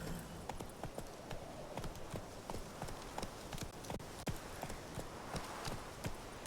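Roach the horse trots along in The Witcher 3, hooves clip-clopping in a steady, even rhythm over ambient game sound, moderately faint throughout.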